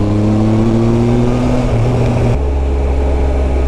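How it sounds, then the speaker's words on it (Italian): A motorcycle passes on a road near Passo del Cerreto, its engine drone steady then shifting pitch and falling away abruptly, loud and close over constant wind-like rumble. "Una moto, io guardate una moto."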